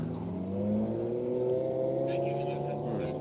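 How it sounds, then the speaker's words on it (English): A race car pulls out onto the track with a droning engine whose pitch climbs steadily as it accelerates away, with a commentator talking over the sound. "And we got Tomo out on track first, followed by Rob Bowen."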